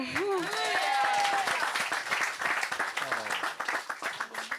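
A church congregation at a healing service after baptism claps and acclaims the Lord: loud, dense applause with raised voices and cheering, starting with vocal shouts and settling into steady clapping.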